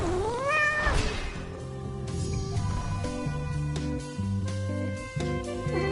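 In the video game Hades II, a single clear, rising cat meow opens the moment, close and prominent, then gives way to sustained background game music.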